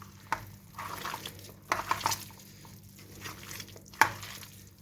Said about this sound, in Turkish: Arkadaşlar güzelce bunu karıştıralım ve fırına verelim